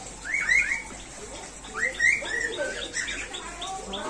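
Loud, rising whistled calls of a white-breasted waterhen repeat in bursts, with fainter chirps scattered between them against a low background hum.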